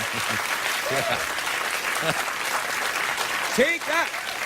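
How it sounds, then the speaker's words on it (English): Studio audience applause on a late-night talk show, a dense wash of clapping running throughout while voices speak over it. "Good to hear that applause"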